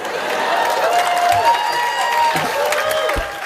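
Audience applause fills a hall, mixed with scattered cheers and whoops, steady and fairly loud throughout, with a few voices calling out above the clapping.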